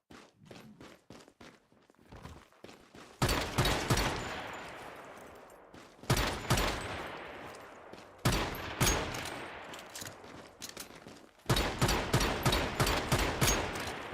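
Bursts of gunfire from a powerful weapon in the online survival shooter Once Human, loud and close, fired in several sharp volleys with short pauses between them and a few soft footsteps early on.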